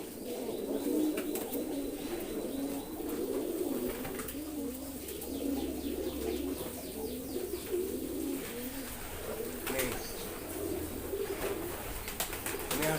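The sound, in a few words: pigeons cooing in a loft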